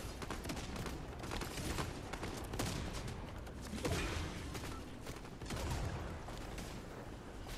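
Rapid gunfire bursts from a Fortnite squad ranked match, dense and continuous with repeated shots and impacts throughout, fairly loud with no clear pauses.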